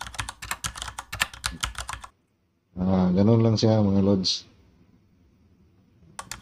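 A typewriter typing sound effect plays as a rapid, even run of crisp key clicks for about two seconds. After a pause someone speaks briefly, and a few more clicks return at the end.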